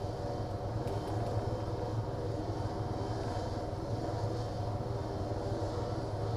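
A helicopter engine in the video game Arma drones steadily and loudly, a constant low rumble with a broad hiss, running without change and with no talk.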